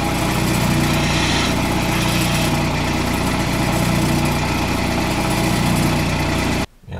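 A wood lathe spins while a skew chisel cleans up a turned tenon, producing a loud, steady mechanical whirring drone that holds for several seconds before cutting off sharply near the end.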